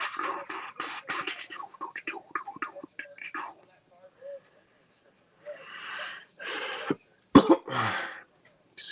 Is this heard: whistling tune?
no